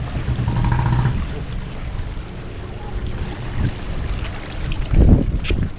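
A boat moving on water, with a steady engine hum, wind buffeting the microphone and water splashing, louder toward the end.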